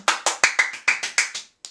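Hands clap in a quick, even run of about nine sharp, close claps at a small child's birthday party, then a short pause and one final clap.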